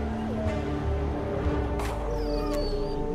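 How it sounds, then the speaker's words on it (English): Wolves in Wild West Dynasty give drawn-out howls and whimpering yips, several overlapping calls at middling distance over a faint ambient background. "just gonna be wolves in the game"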